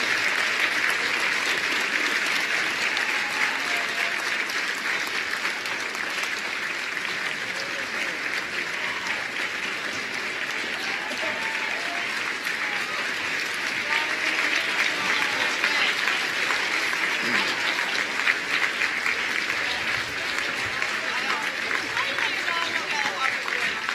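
Sustained crowd applause fills a high school gym after a basketball game, honoring senior players; steady, dense clapping holds at full volume throughout with some voices mixed in.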